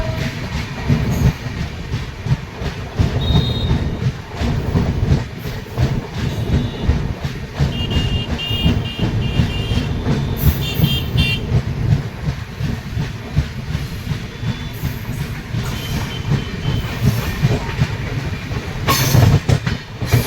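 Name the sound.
New Delhi–Malda Town Express train running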